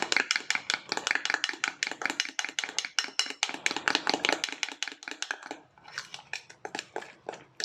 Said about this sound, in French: on remue jusqu'à ce que le mélange soit homogène